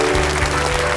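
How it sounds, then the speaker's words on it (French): A brief burst of loud, dense applause from a TV studio audience clapping together. "On applaudit très très fort"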